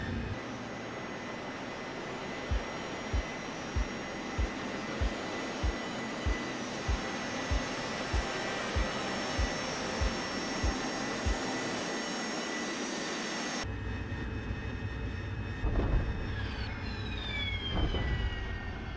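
Harrier jet landing in the DCS flight simulator, a steady loud engine roar with a regular rhythmic thumping pulse, then the tone shifts and turbine whine rises and falls near the end.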